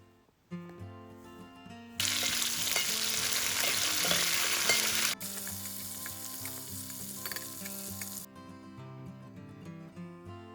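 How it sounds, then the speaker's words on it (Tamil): Loud sizzling of curry leaves, garlic and dried red chillies hitting hot oil for tempering sambar, a sudden bright crackle that keeps frying steadily, with background music playing softly before and after. "கொஞ்சம் கருவேப்பிலை, ஒரு 3 பல் பூண்டு, 2 காஞ்ச மிளகாய் இதெல்லாத்தையும் சேர்த்து நம்ம தாளிக்க போகிறோம்."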